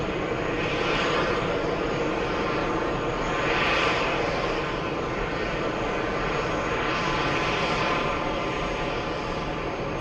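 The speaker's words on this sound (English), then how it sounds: "A340-300 flying in from Frankfurt." A Lufthansa Airbus A340-300 jet arriving from Frankfurt at JFK roars steadily and loudly with a broad engine rumble and whine that swells slightly as it passes, with no talk over it.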